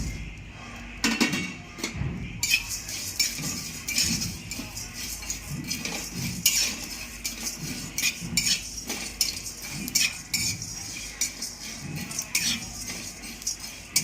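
Spices are stirred and fried in a pan with a metal spoon, giving irregular scraping and clinking strokes over a faint sizzle, steady and close.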